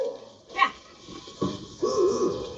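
Dogs barking indoors, a few short close barks and whimper-like yelps spaced out over a quiet background, with no talking.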